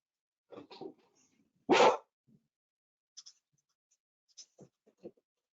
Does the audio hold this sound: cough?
no